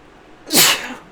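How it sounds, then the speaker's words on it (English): A single loud, close sneeze bursting out after a brief quiet moment, with a short breathy tail. "I've got to sneeze."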